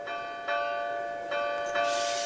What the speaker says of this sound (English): The wind blew gently, and the bell chimed sweetly.